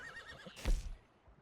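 A horse neighs in Red Dead Redemption 2, a short rising-and-falling whinny followed by a snorting blow and a low thud of hooves, close and fairly quiet with no talk over it.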